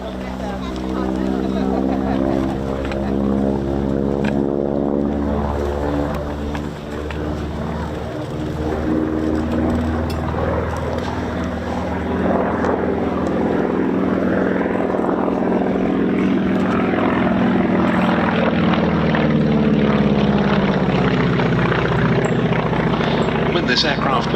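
A WWII propeller warbird, either the Mosquito or the Lancaster Just Jane, runs its piston engines during taxi runs at the East Kirkby airshow, a steady loud droning roar throughout with a commentator talking over it.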